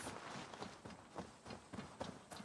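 Horse hoofbeats in the video game Assassin's Creed Valhalla, a faint, quick rhythmic clopping of a running horse over a soft background.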